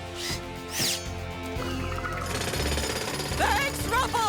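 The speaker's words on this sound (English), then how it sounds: "Jackhammer!" A cartoon jackhammer rattles in rapid repeated bursts, loud and continuous, mixed with squeaky cartoon effects and music.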